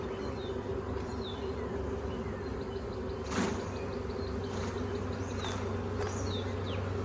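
A honeybee swarm settling into a flowerpot swarm trap hums with a dense, steady buzz close by, individual bees zipping past now and then, with a faint click or knock midway.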